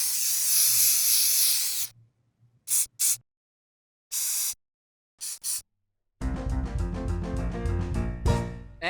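A long aerosol spray hiss, then several short spurts separated by silence, followed by music starting up.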